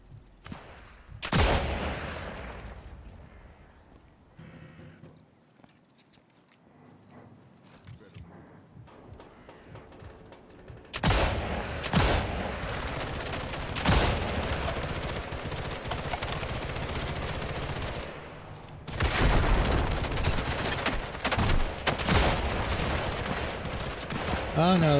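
Heavy gunfire from an enemy tank in Sniper Elite 5, with bursts of sustained shooting and blasts after a quieter stretch, loud and close, and a player talking over parts of it.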